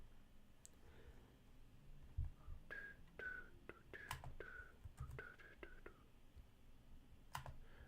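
Computer keyboard typing in short irregular bursts of clicks during a live stream giving away game keys, fairly faint and close, with soft murmured speech and background noise.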